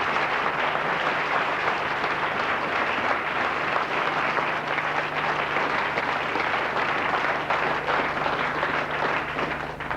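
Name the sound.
staff applauding their managing director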